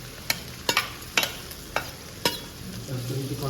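Onions and green chillies frying in butter for dum biryani, a low steady sizzle broken by about six sharp scraping stirs of a spatula against the pan, close and fairly quiet.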